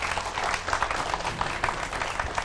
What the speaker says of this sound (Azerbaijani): Asan xidməti alqışlayaq